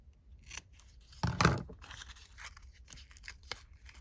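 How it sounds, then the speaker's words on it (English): Scissors snipping paper for a craft collage, with a loud, sharp cut burst near the middle and lighter snips and paper rustles on either side, close by in a quiet room. "Snip it like so."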